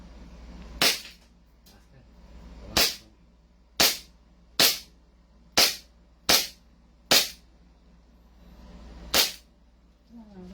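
Eight sharp gunshots crack one at a time at a shooting range, spaced unevenly about a second apart over a low steady background hum, with no talking.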